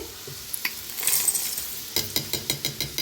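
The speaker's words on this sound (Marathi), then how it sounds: "कांदा मस्त असा भाजायला लागलेला आहे" Onions sizzling in a pan while a spatula stirs, brief crackle then a quick run of rhythmic scraping strokes near the end.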